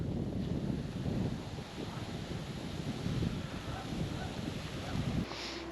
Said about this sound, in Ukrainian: Ну трохи під вечір вітер став.